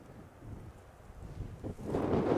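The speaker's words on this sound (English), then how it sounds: "This plateau is scoured by wind." Wind rushes across an exposed, treeless plateau in the Angus Glens, a low buffeting roar that rises into a stronger gust toward the end, with no voices.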